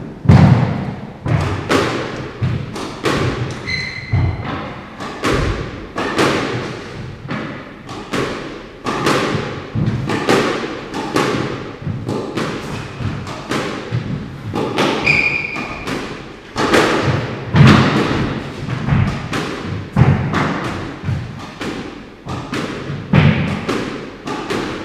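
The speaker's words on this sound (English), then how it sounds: "So I'm going to take it on the short stuff and see how it fares on some drop shots." A squash ball is struck with an Eye V-lite 125 racket for drop shots on a court, giving a long series of sharp, close thwacks and thuds against the walls at an irregular rallying pace, with squeaking shoes between hits.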